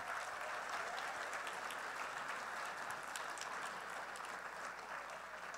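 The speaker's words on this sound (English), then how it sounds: "Give them all a round of applause." Audience applause at the 2016 Folk Alliance International Awards Show, a steady, even wash of clapping that holds for several seconds at a fairly soft, distant level.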